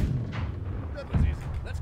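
Ship cannon shots boom in the Blackwake pirate naval game, a few heavy low thuds spaced across a short stretch over constant rumbling background noise.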